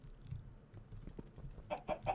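Minecraft chickens give a few short clucks, faint at first with soft clicks like key taps, then three clearer clucks close together at the end.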